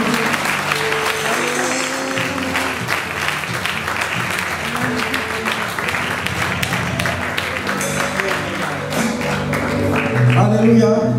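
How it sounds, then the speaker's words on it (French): A church congregation bursts into sustained applause acclaiming Jesus, a loud, steady wash of many hands clapping with voices and music mixed underneath. "Est-ce qu'on peut acclamer Jésus?"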